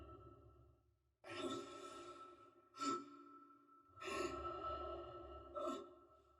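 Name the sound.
Isaac's breathing and exertion grunts, Dead Space remake video game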